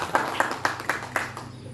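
A few people clap in a short, sparse burst of about seven claps, fairly faint, with a murmur of voices behind, during a primary school meeting.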